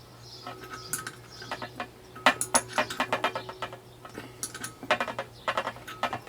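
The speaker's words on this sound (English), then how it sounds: "Now this is 10 millimeter bolts, so we need to tighten them." Wrench tightening 10 mm bolts on replacement brake lines of a BMW Mini R50, close, sharp ratcheting clicks in short uneven bursts over a faint steady hum.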